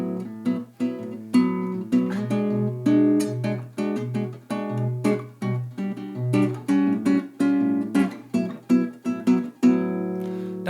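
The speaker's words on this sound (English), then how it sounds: "a Bossa Nova groove would sound something like this." Bossa Nova groove strummed and plucked on an extended range baritone ukulele, a syncopated pattern of bass notes and short chord stabs, close and clear, played alone.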